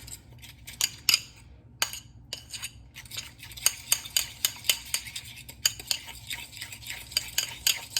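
Rehydrated freeze-dried egg white powder is stirred briskly in a bowl: a run of quick, close clinks and scrapes from a utensil against the sides, some pauses, then a faster rhythmic beat, with no talking.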